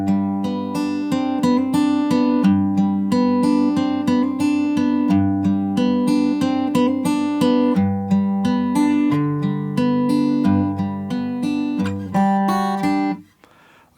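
Acoustic guitar in standard tuning picks the opening melody line of a piece from Red Dead Redemption 2, steady plucked notes ringing over a low bass line for about thirteen seconds, close and clear, ending in a held chord that fades.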